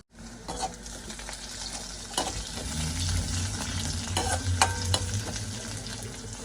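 A pan of curry with tamarind bubbles and sizzles steadily while a spoon scrapes and stirs now and then, close by, with no talking.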